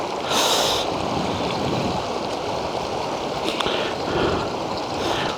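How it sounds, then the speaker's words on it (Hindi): Water rushes loudly and steadily across the road to Khunjerab Pass, a continuous broadband roar with brief surging bursts, heard alone without talk. "पानी का रेला।"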